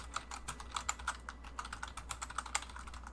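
Quick, light keystrokes tapping a computer keyboard in an irregular burst of a dozen or so clicks, close and fairly quiet over a faint steady hum, no voices.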